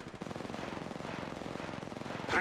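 Rapid automatic gunfire in the mobile battle royale shooter Apex Legends Mobile, a dense continuous rattle of close shots running the whole stretch and swelling louder at the end.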